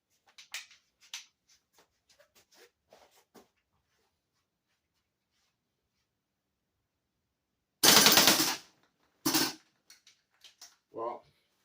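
An S&T Matrix gas blowback airsoft rifle lets off a loud, near, rapid burst as the magazine is dumped, followed by two shorter bursts, with faint handling clicks before the firing.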